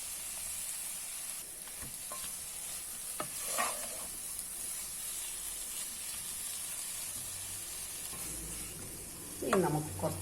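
Green chili dropped into a pan of sweet potato chaat masala, with soft steady sizzling and frying under occasional stirring scrapes and a few louder clatters near the end.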